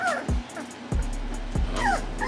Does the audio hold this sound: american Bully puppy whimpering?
yes